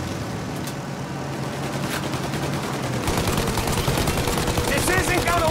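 Rapid gunfire rattles at a plane's engines during a Mafia Definitive Edition shootout, dense automatic bursts growing louder and more continuous partway through over a low engine drone.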